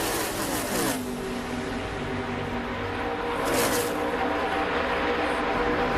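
NASCAR race cars roaring around the track on the final lap, a dense, loud, continuous engine drone with two brief swells as cars pass close by.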